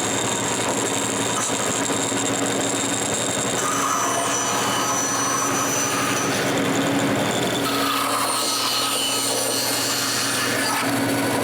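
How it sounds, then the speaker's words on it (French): A band saw cuts tenon cheeks in wood with a continuous buzzing rasp and motor hum, running without a break and no voices. "je coupe les joues à scie à ruban"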